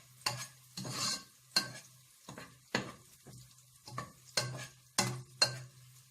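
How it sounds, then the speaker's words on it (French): Onions sauté in preheated oil. A pan-side spatula scrapes and taps in about ten distinct strokes, each with a short burst of scraping, over a faint low background between strokes. "Je fais revenir mes oignons dans l'huile préchauffée."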